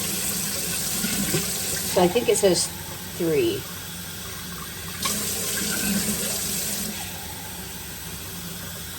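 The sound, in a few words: tap water filling pitcher for pink lemonade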